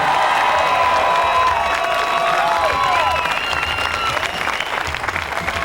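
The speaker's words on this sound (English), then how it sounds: "A big round of applause for them." A crowd applauding at Walt Disney World Speedway, loud sustained clapping and cheering with whistles and shouts running throughout.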